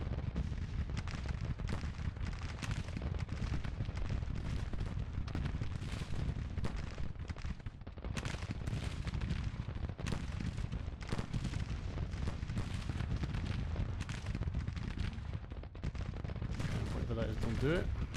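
Cannon artillery fire in the Grand Tactician strategy game, a dense, continuous barrage of rumbling booms and crackling shots at steady loudness, with no talk over it.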